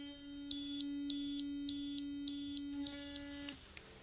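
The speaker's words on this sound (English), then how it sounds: "It has a beeping sound." A Shyn sonic toothbrush's pressure sensor sounds an alert: five evenly spaced high electronic beeps over the brush's steady motor hum, which then cuts off.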